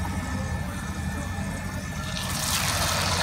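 Puris dropped into hot frying oil for poori, giving a steady broad sizzle that rises and brightens near the end, close and continuous under a low hum.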